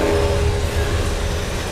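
A train rumbles past close by, a dense, steady roar of rail noise with a faint tonal hum running through it.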